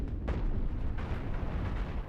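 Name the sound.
chain reaction explosion of a ship in the video game Cosmoteer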